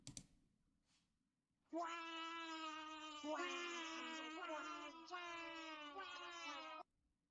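A house cat gives a long, drawn-out meow, then a few more wavering cries in quick succession, clear and close in a quiet room, after a couple of faint clicks.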